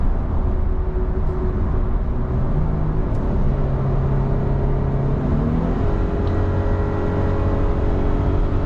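A 2023 Nissan Frontier Pro-4X pickup towing a trailer, its engine droning steadily inside the cab with rising and falling tones through manual downshifts, continuous and moderately loud with no talking.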